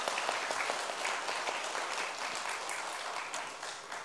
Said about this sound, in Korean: 우리 한번 각 박수로 격려해 주시면 감사하겠습니다